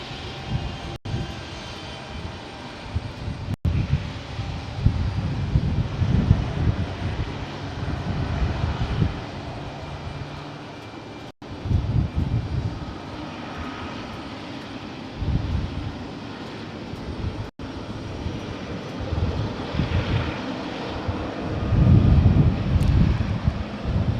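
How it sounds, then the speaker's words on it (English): Boeing 777 with GE90 engines at San Jose airport, a continuous jet engine roar with rumbling surges and wind buffeting the microphone, no talk. "Oh, those GE90s."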